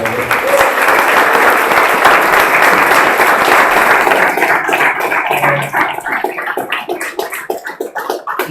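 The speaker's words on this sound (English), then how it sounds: "I think we can give him another round of applause" Audience applause after a startup talk at a small venue, loud dense clapping that holds for several seconds and then thins out into scattered individual claps as it dies away.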